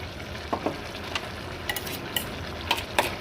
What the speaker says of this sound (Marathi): आता घालूयात खोबरं आणि जिऱ्याचं वाटण